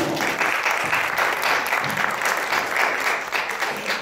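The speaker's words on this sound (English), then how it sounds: "Jim, give Jim a round of applause." A magic-show audience applauds volunteer Jim, a loud, continuous wash of clapping hands close by, sustained evenly from start to finish.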